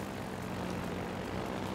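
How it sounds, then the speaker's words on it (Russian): A propeller airplane engine drones steadily in the World of Warships naval battle game, a constant close hum that fills the whole stretch with no talking over it. "Сейчас мы с помощью самолета полетим"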